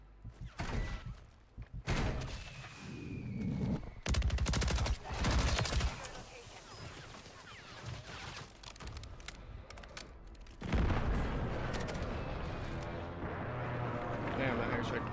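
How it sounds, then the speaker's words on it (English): Heavy airstrike blasts and booming impacts in Call of Duty Warzone on Rebirth Island, arriving in several loud bursts amid scattered gunfire, with players talking throughout. "Damn, that airstrike blew up my mines"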